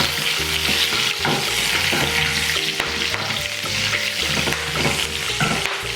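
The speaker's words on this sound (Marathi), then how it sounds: "कढीपत्त्याला आहे ना 2 मिनटं व्यवस्थित तडकून देऊया, फ्राय करून घेऊया." Curry leaves crackling in hot oil in a pan as the base for a prawn masala, a dense continuous sizzle with sharp pops and occasional stirring knocks, loud and close throughout.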